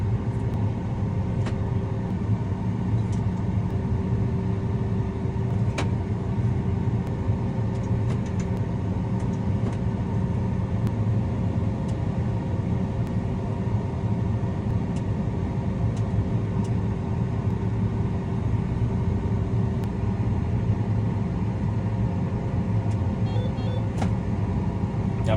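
A farm vehicle's engine runs in a steady, unbroken low rumble during grain loading from a combine, heard from inside the cab with faint clicks over the drone.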